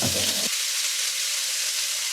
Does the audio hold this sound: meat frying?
yes